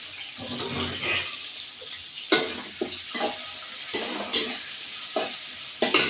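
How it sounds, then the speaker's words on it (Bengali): Onion frying in oil while cooking a Bengali mutton kosha, a steady close sizzle broken by several sharp stirring and scraping bursts, with no talking. "এবার এই পেঁয়াজটা দিয়ে দেবো। এই পেঁয়াজটা আছে ভাজা করব।"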